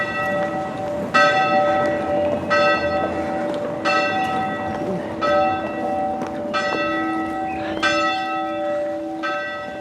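Church bells ring in the bell tower of St Mary's Church, Honley, struck one at a time in a steady slow rhythm of loud, ringing peals with long overlapping hum, close and full.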